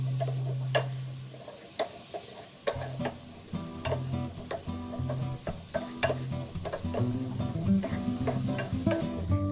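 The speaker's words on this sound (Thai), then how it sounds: "คั่วต่อไปนะคะ จนเขาแห้งค่ะ" A spatula scrapes and stirs eggplant dip ingredients in a pan as they cook down until dry, giving steady rhythmic scraping taps over a soft, low sizzle with no talking.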